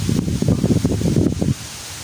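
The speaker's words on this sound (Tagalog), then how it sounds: "Malakas yung hangin" Strong wind gusting through banana leaves, a loud rushing rustle that swells and churns for over a second, then drops to a steadier background hiss.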